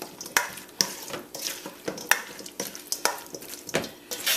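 Shrimp, mango and avocado salad being stirred and tossed in a bowl, giving a series of close, soft wet clacks and scrapes in an irregular rhythm, with no talking.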